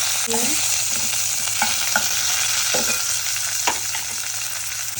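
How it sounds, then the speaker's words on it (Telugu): Onions fry in hot oil with mustard seeds, cumin and curry leaves as the base for aloo kurma. A steady sizzle runs throughout, broken by a few clinks and scrapes from a stirring spoon. "ఆనియన్స్ బాగా ఫ్రై చేసుకోవాలి."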